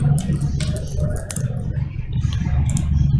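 Keys clatter on a computer keyboard as Google is typed, a quick run of close, crisp taps in uneven rhythm over a low background hum.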